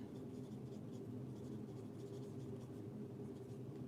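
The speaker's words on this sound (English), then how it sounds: "I'm gonna write that down." Pencil scratching and scribbling across paper on a painting desk, a steady, close, continuous rasp with no talk over it.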